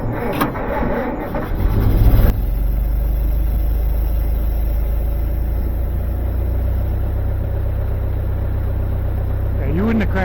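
A restored 1927 Ford Model T coupe engine cranks over for about two seconds with a loud, rhythmic churning, then catches and settles into a steady, close idle.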